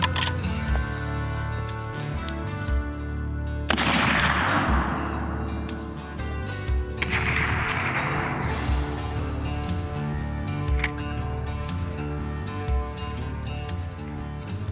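Two sharp rifle gunshots fired a few seconds apart while zeroing scopes before a black bear hunt in Alberta, each followed by a long rolling echo over faint background noise.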